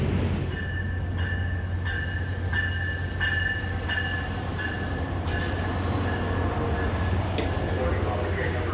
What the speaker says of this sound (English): Sacramento Valley Station, awaiting the arrival of the Coast Starlight